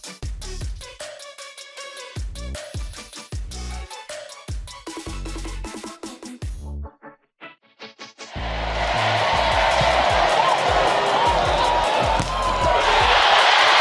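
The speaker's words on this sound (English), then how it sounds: "The crowd celebrating too soon" A volleyball crowd at a World Championship match in the Netherlands erupts into loud, sustained cheering for Nika Daalderop's spike, rising suddenly after the rally sounds of ball contacts and shouts and staying dense and roaring to the end.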